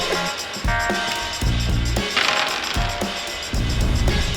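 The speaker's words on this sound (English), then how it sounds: "So we've rolled the dice" Dice clatter and tumble across a surface, several short rattling impacts in quick succession that settle, then roll again, loud and close with no talk.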